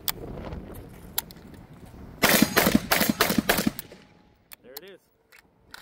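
A PSA Krink rifle fed from a bulky Bulgarian magazine fires a rapid string of sharp, loud gunshots in quick succession, preceded by scattered handling clicks, followed by a brief voice and quiet.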